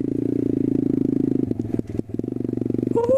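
A dirt bike engine drones steadily, then stutters and breaks up with scraping, clattering noise as the bike crashes. The engine picks back up briefly before a rising whine closes the clip.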